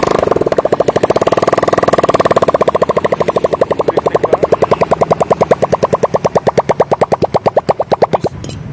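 A Suzuki Satria motorcycle engine runs loud and raw with no exhaust pipe, a harsh rapid popping that slows into distinct heavy thumps before cutting off.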